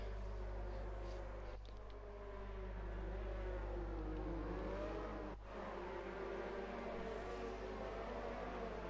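F1 Academy race cars at the Chinese Grand Prix rolling out on the formation lap, with a steady engine drone and a couple of brief revving swells rising and fading at moderate distance.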